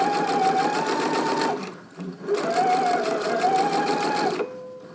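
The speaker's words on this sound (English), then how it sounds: "I'm going to stitch the other one, and again I'm going to come in closer inside the seam allowance" A sewing machine runs a second row of gathering stitches on fabric, a steady fast whirring buzz in two bursts broken by a short pause, close and loud.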